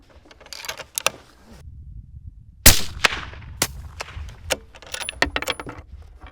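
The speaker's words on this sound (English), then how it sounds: "Let's shoot a custom load in the top left corner" A rifle firing custom-load ammunition gives one sharp, loud report partway through, surrounded by lighter clicks and handling noises from the shooting bench.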